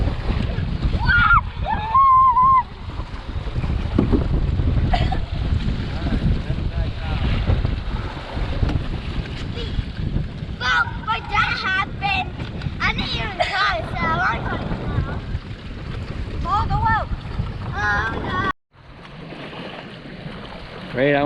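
Gusty wind noise and water splashing fill the air aboard a Hobie Mirage Tandem Island sailing on Redfish Lake, with people talking over it, and a sudden drop to quieter sound near the end.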